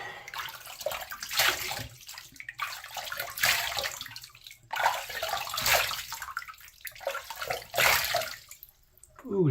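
Water splashed over the face while rinsing after a shave, several bursts of splashing and running water in repeated waves, close by.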